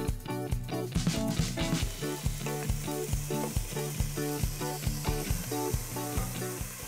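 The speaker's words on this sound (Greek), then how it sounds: "θα ζεστάνω λίγο ελαιόλαδο για να σοτάρω το κρεμμυδάκι." Chopped spring onion sizzles in hot olive oil with a steady, close frying hiss, while rhythmic background music with a regular beat plays throughout.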